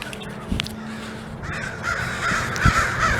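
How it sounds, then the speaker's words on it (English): Crows caw outdoors near some corn chips set out for them, with several loud, rough calls spread across a background of quieter bird noise. "Plenty of crows around here."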